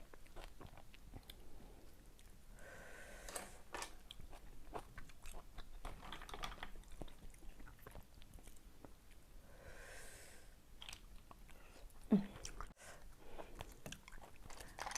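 Someone eats blood cockles, faint close-up biting and chewing with small crunches scattered through a quiet room and no talking.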